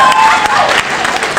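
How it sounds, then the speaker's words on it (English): Guests at a wedding rehearsal dinner cheering and clapping together, a brief loud burst of applause and voices close by. "let's have a cheer for everybody who received those letters from Asia"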